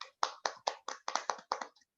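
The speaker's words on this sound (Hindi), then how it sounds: "उनके लिए एक बार जोरदार तालियां हो जाए" Scattered audience clapping at a seminar, about eight crisp, separate hand claps in a fairly even rhythm, quiet and close, fading out after two seconds.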